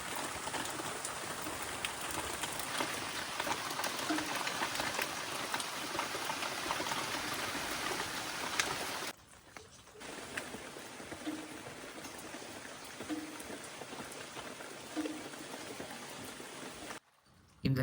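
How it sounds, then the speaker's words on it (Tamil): Heavy rain pours steadily on surfaces in a tribal village in Araku Valley, a dense continuous roar with two brief drop-outs near the middle and end; a voice speaks faintly beneath it. "சரிங்களா, எவ்வளோ மழைன்னு"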